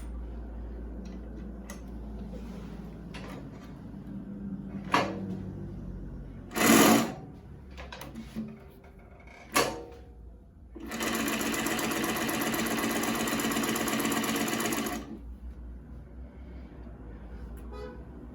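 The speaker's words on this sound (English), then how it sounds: "you can see how the Tex 70 is sewing" A cylinder arm walking foot sewing machine running Tex 70 thread stitches in a short burst, then in a steady run of about four seconds, with clicks and handling noises before it in a quiet room.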